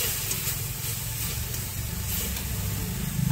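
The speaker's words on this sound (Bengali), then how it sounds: "এই যে আমি একটা মাঝারি সাইজের টমেটো ঘষে রেখেছি, এটা এখন দিয়ে দেবো। দিয়ে ভালো করে নাড়াচাড়া দেবো।" Grated tomato and coriander powder are stirred into a hot pan while preparing a taro curry, giving a steady close sizzle with soft scraping of the stirring throughout.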